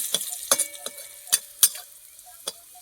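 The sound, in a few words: neem leaves frying in oil with five-spice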